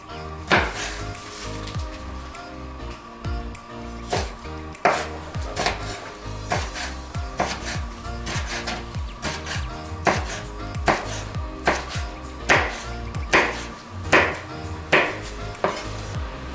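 A knife chops chilies for sambal tomat on a board, sharp close knocks in a brisk, uneven rhythm that runs throughout, with no talk.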